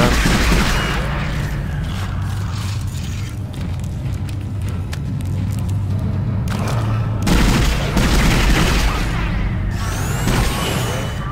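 Weapon secondary fire in the Dead Space video game gives a dense continuous barrage of booming blasts and crackling bursts, loud and sustained, shifting character midway with bright metallic ringing near the end.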